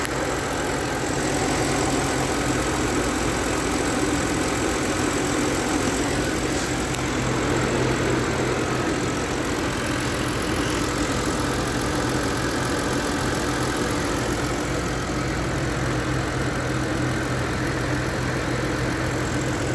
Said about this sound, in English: now we're going to do basically just an engine running at temp, at idle.